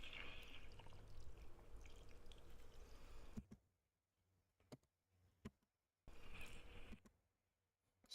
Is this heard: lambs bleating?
no